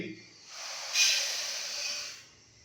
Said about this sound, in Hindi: मीडियम से लो फ्लेम पे हमने अलसी को अच्छे से भूनना है